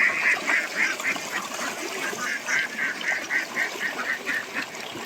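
A flock of native ducks on a farm of about eleven hundred birds quacks steadily and loudly, many calls overlapping in a dense, continuous chorus close by.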